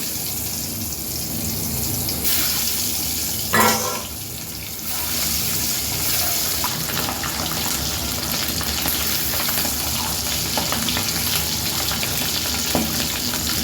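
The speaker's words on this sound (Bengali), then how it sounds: "গরম তেলে মশলা মাখানো ডিমগুলো আমি ফ্রাই করছি" Spice-coated eggs frying in hot oil, a continuous bubbling sizzle close by with a brief louder spatter early on, no talking.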